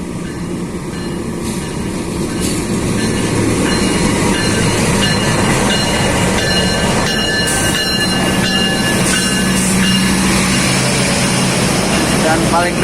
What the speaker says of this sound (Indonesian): jadi kereta api Argo Wilis dia tidak berhenti ya di stasiun Ciamis alias Bablas.